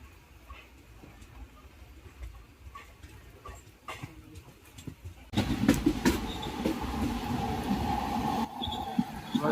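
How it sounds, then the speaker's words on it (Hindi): An Indian Railways express train pulls out of Kankavli station after a five-minute halt, rolling along with low rumbling and rail clatter that grows louder and denser about halfway through. "पाँच मिनट के होल्ड के बाद कनकावली से डिपार्चर लेते हुए"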